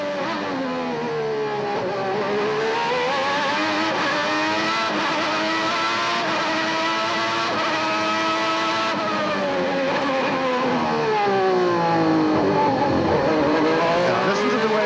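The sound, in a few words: Ferrari Formula One car engine, 1990 Australian Grand Prix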